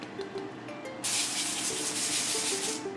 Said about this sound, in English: get the avocado spray out and give it one more coat on the top